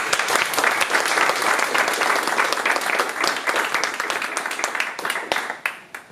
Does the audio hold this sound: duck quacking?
no